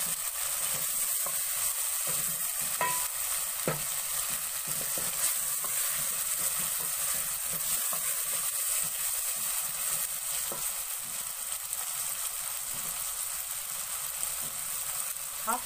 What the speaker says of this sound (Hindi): अब थोड़ी देर टमाटरों को भून लेंगे।